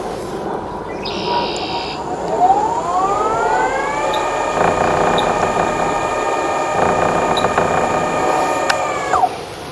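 A Teamgee H6 electric skateboard motor whine in high speed mode climbs in pitch and holds a loud, high steady tone over rumbling wheel noise before dropping away at the end.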